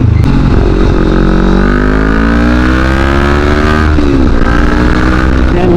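CFMoto NK400 motorcycle accelerating hard after a fuel tank filter replacement, loud and close, its engine note climbing through the gears in smooth rising sweeps with a brief dip partway through.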